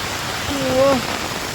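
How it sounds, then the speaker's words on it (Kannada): Heavy rain pouring down steadily as a dense, even hiss, with a brief tonal vocal sound rising above it for a moment. "ಬಟ್ ಹೆವ್ವಿ ಮಳೆ ಇಲ್ಲಂತೂ"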